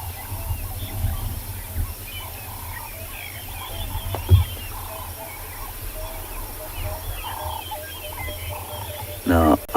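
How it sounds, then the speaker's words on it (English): A steady electrical crackling and chirping buzz from overhead power lines on a sunrise safari near Cheetah Plains, oddly resembling distant birds calling, over faint outdoor background noise. "It is the power line just above us, heading towards Cheetah Plains."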